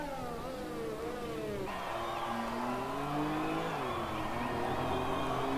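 An F1 2020 video game race car on its out lap at the Australian GP, partly running on the grass, its high engine whine rising and shifting through gears, steady and close.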